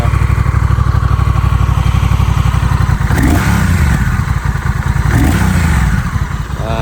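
A classic-style motorcycle with a DCT automatic transmission close by starts and idles with a fast, throbbing pulse, then revs up twice before settling back to a steady idle.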